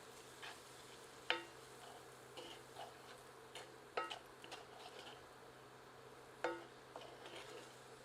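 Spoon stirring red chilli powder, garam masala and turmeric into banana flower sabzi in a pan, with a few sharp clinks of the spoon against the pan over a faint, low sizzle; no voices.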